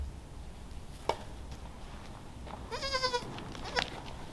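A baby goat bleats once, clear and fairly close, against faint farmyard background noise, with a couple of brief knocks around it.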